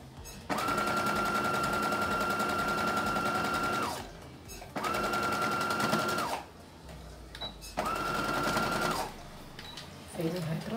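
A sewing machine stitches leather in three separate runs, each a few seconds of loud, fast mechanical whirring with a steady whine, the last run being a backstitch, with brief pauses and handling noises in between.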